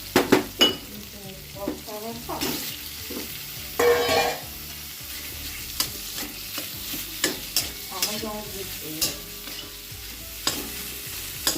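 Chhana frying in oil-rich masala as a spoon stirs it through the pan, with repeated scraping strokes over a steady sizzle, close and fairly loud and with no talking.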